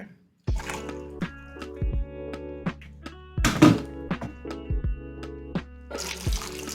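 Water poured into a cup while cooking a coconut vegetable korma, a few light splashes and thunks of kitchenware under a low steady hum, close and moderately quiet.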